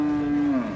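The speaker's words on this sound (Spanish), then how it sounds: "vamos a en este momento aquí a enfocar en la bonita y gigantesca vaca" A single long moo from a large cow at a livestock gathering in Santa Rosa de Lima, steady and close for most of its length, then dropping in pitch at the end.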